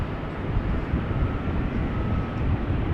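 Airliners at Amsterdam Schiphol Airport, including an A330-200 being pushed back, make a continuous low rumbling roar of jet engines with a faint steady whine, distant and even, no voices.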